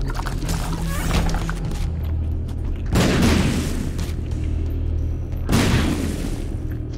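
Bombs detonate in The Binding of Isaac: Repentance, three loud booming blasts spaced a few seconds apart, each a broad burst that quickly fades into low rumble.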